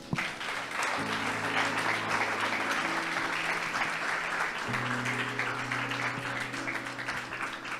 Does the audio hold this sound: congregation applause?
yes